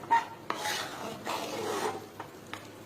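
Scraping and rubbing strokes of a spoon stirring food in a cooking pot, the cook stirring continuously without lifting the hand so nothing sticks, with a few sharper knocks against the pot rim, close and fairly quiet.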